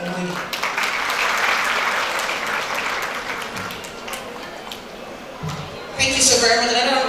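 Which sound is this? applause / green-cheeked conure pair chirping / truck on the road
applause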